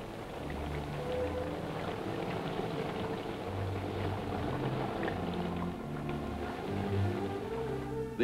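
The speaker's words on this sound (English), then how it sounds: "this Jeep engine, which is capable of running entirely submerged in water." A waterproof military Jeep engine runs fully submerged, giving a steady muffled low rumble with bubbling, churning water throughout, no speech.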